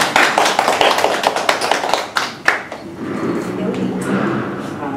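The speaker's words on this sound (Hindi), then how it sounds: "आइए हम स्तुति आराधना के लिए प्रभु यीशु मसीह का तालियों से स्वागत करते हैं" A burst of clapping from a church congregation welcoming worship, sharp and quick at first, then thinning out into a murmuring, echoing room with voices.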